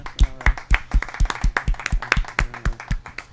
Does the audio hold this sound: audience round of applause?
yes